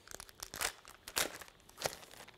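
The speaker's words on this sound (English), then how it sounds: "We got us another plastic bag." A plastic bag crinkles and tears in several sharp bursts as it is opened while unpacking a survival gear box, close and soft with no voices.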